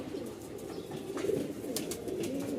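Pigeons kept for feed coo in low, soft repeated throaty calls close by, with faint rustling and a few light ticks.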